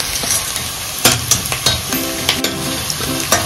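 Onions and ginger pieces frying for palak paneer, stirred in a pan with a loud, steady sizzle and repeated scraping strokes of the spatula, close up and without talking.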